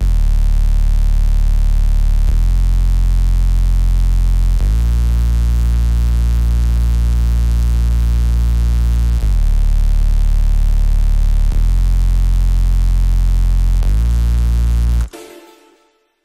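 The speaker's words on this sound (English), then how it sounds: "First, we've got the hook, which has this distorted sub" A distorted sub bass plays in a music mix, a loud, sustained, buzzing low tone that steps between held notes every two to three seconds before cutting off abruptly, heard alone.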